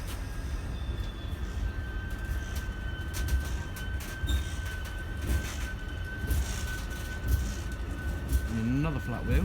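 Rail wagons of a ballast train, hauled backwards by a Freightliner Class 66, roll past with a continuous rumble, a faint high wheel squeal and irregular thumps from a flat wheel, while someone talks over it.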